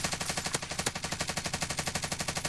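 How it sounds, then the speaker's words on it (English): Automatic fire from an MP5 submachine gun in Call of Duty Warzone rattles out as a steady, rapid string of loud, evenly spaced shots with no talking over it. "There was a guy shooting over here."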